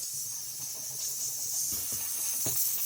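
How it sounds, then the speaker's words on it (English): Steam cleaner with a brush accessory hisses continuously while scrubbing interior plastics of a Citroen Xsara Picasso 2.0 HDI, with a few soft knocks and scrapes from the brush. "With the steamer and the brush accessory, I scrub them well."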